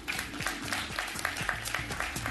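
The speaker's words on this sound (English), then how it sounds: "Please, a big round of applause to the panel here and in Accra for..." An audience at an investors' forum applauds a panel with a short, steady patter of clapping hands. A low tonal hum runs underneath.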